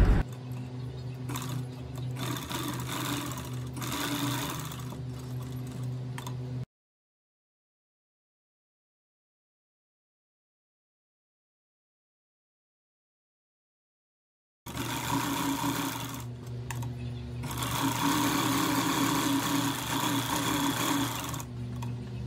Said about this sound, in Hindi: आगे से हम इसको सिलाई लगाएंगे।